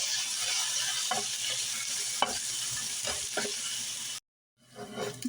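Curry leaves and crushed garlic fry in hot oil in a pan for a Kerala-style ivy gourd stir-fry. A steady close sizzle is broken by a few stirring knocks, then a brief silence before the sizzle returns.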